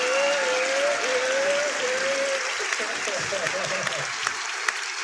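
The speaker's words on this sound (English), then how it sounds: "We're going to give a clap real quick." A studio audience claps for a talk show intro, a dense even wash of applause running throughout while a voice carries a sustained tone over the first half.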